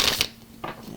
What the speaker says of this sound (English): So we just have a few more shuffles to go.